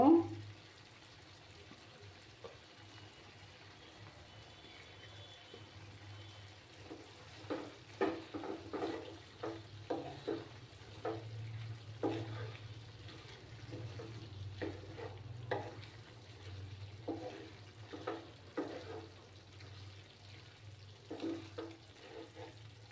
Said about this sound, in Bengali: এবার আমি একটু নাড়াচাড়া করি